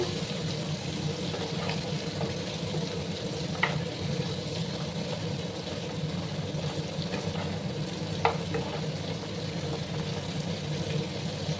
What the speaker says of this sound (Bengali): আলু আর কুমড়ো একসাথে একটু ভাজা ভাজা করে নেবো, তাতে টেস্টটা আরও ভালো আসবে।